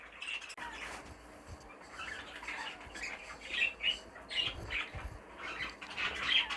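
Cinnamon grey green birds, adults of any age, squawk repeatedly in a shed, with loud sharp calls growing busier toward the end and bursts of wing flapping, all nearby and close.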